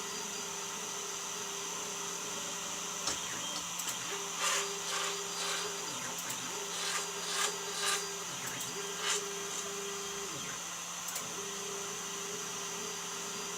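A 3D printer axis hums steadily as it travels, while a rattling, grinding noise from the lead screw nut comes and goes in bursts on the return stroke. The printer is prone to skipping on big prints.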